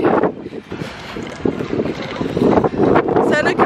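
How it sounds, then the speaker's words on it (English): Wind buffets the microphone in gusty, uneven rumbles while people talk over it. "It's very windy"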